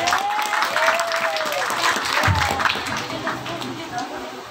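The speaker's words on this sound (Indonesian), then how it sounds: "Tepuk tangan, Bu, tepuk tangan." Mothers in the audience at a humorous Indonesian religious lecture applaud at the preacher's prompting. The steady clapping is mixed with crowd noise, and a voice talks over it throughout.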